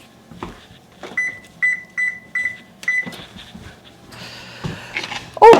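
A kitchen oven's control panel is set for baking cookies, giving a run of short, bright electronic beeps in steady succession with a few clunks in between, close and fairly loud.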